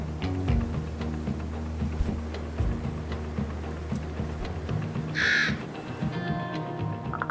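Common ravens calling around Yosemite's granite cliffs, a single harsh croaking caw rising clearly midway through, set against a steady low rumble of background ambience and music, with no voices.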